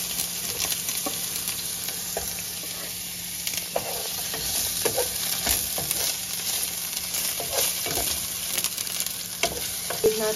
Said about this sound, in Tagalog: Sunod na natin ang bawang. Sunod natin ang sibuyas.